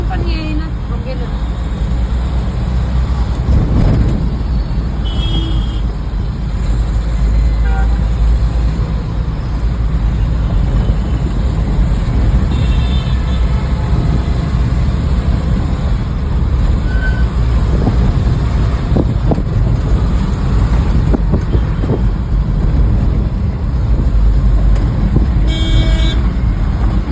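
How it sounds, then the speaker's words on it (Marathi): Heavy road traffic on Thane's Ghodbunder Road, a loud continuous rumble of cars, buses and trucks with repeated horn toots, some near and some farther off, while people talk over it. "किती ट्रॅफिक"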